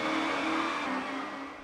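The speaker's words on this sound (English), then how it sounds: "Touring Car Championship doesn't run well at all." Car engine in the racing video game Touring Car Championship, played on a 1997 budget PC, giving a steady droning whine at moderate loudness with no talking.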